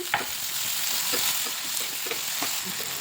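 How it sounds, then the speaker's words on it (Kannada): Chopped onions frying with cumin in hot oil in a kadai for egg masala curry, a close, continuous sizzle marked by light stirring scrapes and ladle clicks. "ಈರುಳ್ಳಿ ಕೂಡ ಹಾಕ್ಕೊಂಡು ಪೂರ್ತಿ ಹಸಿ ಸ್ಮೆಲ್ ಹೋಗಲಿ ಮಟ್ಟ ಫ್ರೈ ಮಾಡ್ಕೊತೀನಿ"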